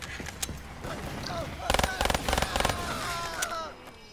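Video game gunfire in Call of Duty: Black Ops III Shadows of Evil, rapid automatic bursts in two or three quick clusters with scattered single shots, loud and close over background game noise and players talking.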